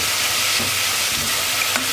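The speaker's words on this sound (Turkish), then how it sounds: "Şimdi mantarları şöyle bir iki dakika kavurayım" Mushrooms sizzle and sauté in a hot pan, a steady close frying hiss with faint stirring scrapes.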